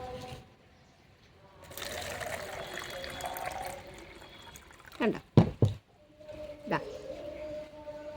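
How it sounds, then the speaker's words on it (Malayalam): Water pours and splashes briefly into a plastic bottle with gurgling bursts, close by, with a voice speaking around it. "ഇനി നമുക്ക് ഇതിനകത്ത് നിറച്ച് വെള്ളം ഒഴിച്ചു കൊടുക്കണം"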